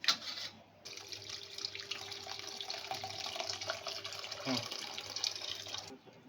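Cold water is poured into a vessel so that boiled flowers can be squeezed out. The splashing runs steadily at a low level, with faint background voices and clatter.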